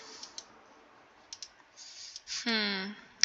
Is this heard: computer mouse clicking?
yes